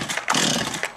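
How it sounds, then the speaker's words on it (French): A chainsaw, just back together after a carburetor repair, is yanked by its pull cord: a loud, rough, broadband rasp fills about a second, with short surges as the cord is drawn, heard up close. "là on va retester la tronçonneuse. Donc je remets tout en bas, je tire dessus."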